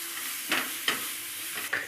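Karela (bitter gourd) being stirred with turmeric powder and garam masala in a pan: three distinct scraping strokes against a quiet frying sizzle, close and clear.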